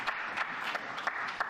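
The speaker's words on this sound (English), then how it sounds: "Listen to that applause." A conference audience applauds in a hall during a security conference speech in Munich, with a thin, distant patter of clapping and a few sharper bursts over a steady wash.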